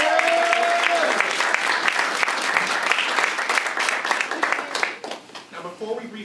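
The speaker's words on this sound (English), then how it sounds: "Can we give a hand clap to you?" Audience applause at a Honda press event, clapping that is full at first, then thins into scattered claps, with a speaking voice heard over it at the start.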